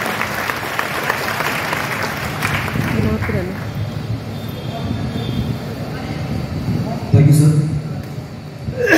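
An audience claps loudly at an orientation program of a Kota coaching institute, dense applause filling a hall and mixed with amplified talk, fading briefly before a louder burst near the end.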